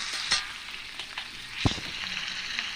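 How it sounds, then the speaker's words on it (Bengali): Jackfruit pieces sizzle in a hot pan with salt, a soft steady frying hiss broken by a few sharp pops and stirring scrapes, with no talk. "লবণটা দিয়ে দিলাম, তারপরে ভেজে নিচ্ছি।"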